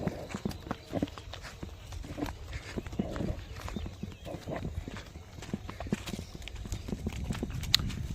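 Cow hooves clop steadily along a farm path beside fields, a dense run of close, uneven footfalls with rustling around them and faint voices now and then.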